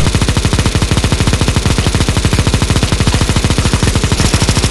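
Rapid, loud automatic gunfire blasts in a steady, unbroken stream while players shoot a boss on the CS:GO zombie escape map ze_ffvi_oblivion_castle_v2_5, close and continuous for several seconds.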